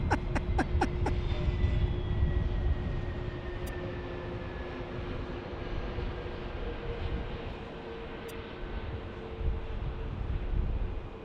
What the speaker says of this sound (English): Delta Airlines A319 departing right here